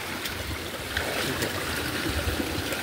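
Steady rushing water flows continuously in a rocky river stream channelled toward a mini hydro plant, a broad even wash of sound close by with no voices.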